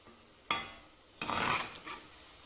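Masala urandai vada, spiced round lentil fritters, bubbling and crackling in hot oil: a sharp clink near the start, then a louder burst of frying sizzle that fades off, with no talk.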